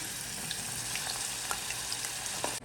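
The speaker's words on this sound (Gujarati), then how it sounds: "હવે આપણે શક્કરિયા તળી લઈશું." Steady frying sizzle of sweet potatoes in hot oil, a dense hiss with small pops and crackles throughout, with no talking.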